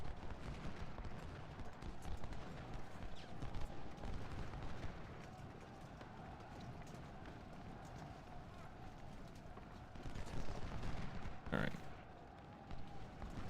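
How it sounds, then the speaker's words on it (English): Artillery in a Civil War strategy game booms in a dense, rumbling barrage, distant cannon fire and musketry blending into a continuous roar with one sharper crack near the end. "Artillery firing into them point blank."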